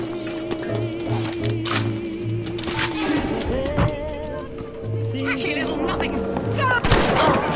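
Shotgun blasts in the first-person shooter Bioshock, several sharp booming shots scattered among game music and effects, with someone talking over the action.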